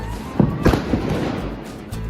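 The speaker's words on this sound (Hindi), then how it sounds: "पटाखे बैन है लेकिन सब लोगों ने पटाखे मंगवा लिए" Firecrackers going off outdoors during Diwali celebrations at home: a few dull thumping bangs over a constant loud background roar, with no clear talk.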